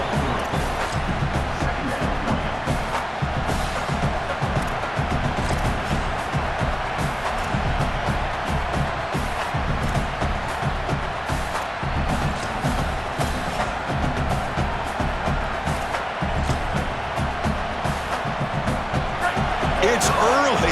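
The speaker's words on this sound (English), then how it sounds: "It's early, but this crowd is fired up. Listen to this noise here." A college football stadium crowd in a video game roars continuously, a dense, loud wall of cheering that never lets up, with broadcast commentary voices running over it.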